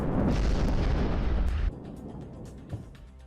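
Russian artillery shelling on the outskirts of Kharkiv: a loud, sustained rumbling roar of fire that cuts off abruptly partway through, leaving a quieter background with one faint distant thud afterward.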